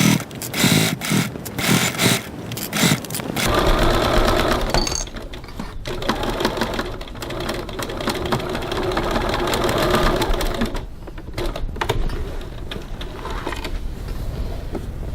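Sewing machine basting a 6 mm (1/4 inch) seam across a bag flap, the stitching running close and steady in long bursts with brief pauses between them.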